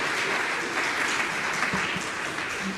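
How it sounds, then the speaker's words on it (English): An audience at the MinnPost Fest live event gives a round of applause, steady close clapping filling the room for the whole stretch. "Let's give a round of applause"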